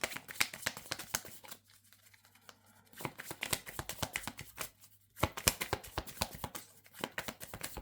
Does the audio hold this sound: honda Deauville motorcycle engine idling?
no